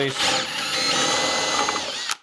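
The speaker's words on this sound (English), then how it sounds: "drill those out with a drill bit" A power drill whines steadily as it bores holes in wood, close and loud, then cuts off abruptly at the end.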